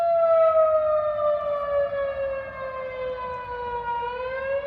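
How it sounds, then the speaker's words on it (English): A tornado siren wails loud and sustained over abandoned, run-down backroads Arkansas towns, one long rising-and-falling tone that slowly dips in pitch, no voices. "Sounds like a tornado siren."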